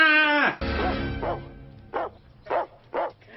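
A dog in a horror film sequel barks several times, three sharp separate barks following a louder opening yelp and growly vocal passage, spaced about half a second apart and fairly close.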